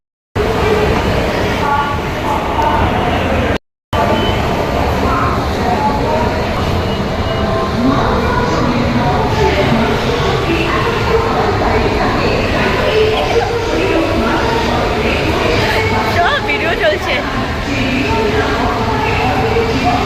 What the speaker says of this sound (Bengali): পরের ট্রেনটায় উঠলাম, এটা হচ্ছে কল্যাণী সীমান্ত।